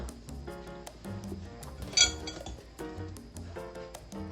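A glass bottle of fish sauce is shaken, giving faint, quick clinks and rattles of glass and liquid, close by and quiet, with one sharper clink partway through.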